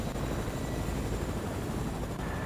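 Helicopter in the Fortnite video game, a steady broadband rotor and engine drone held at constant loudness throughout, close and continuous with no talk over it.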